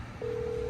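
Telephone dialing a number, heard as a single steady beep-like tone that starts suddenly and holds to the end, faint and alone with no voices.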